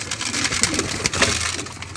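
Pet pigeons on a roof being fed, with close coos and rustling, pecking clatter over a noisy background, no clear speech.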